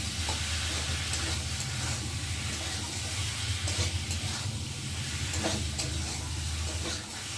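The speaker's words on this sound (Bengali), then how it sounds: "মশলাটা আমি ভালোভাবে কষিয়ে নেব।" Spice paste of chili, ginger paste, cumin paste and tomato frying in a pan while being stirred, a steady close sizzle with scraping stir sounds and no voices.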